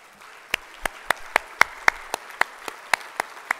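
Applause at a fire and rescue department luncheon honoring service members. A few sharp, close claps ring out in an even rhythm over a faint background of scattered clapping from the room.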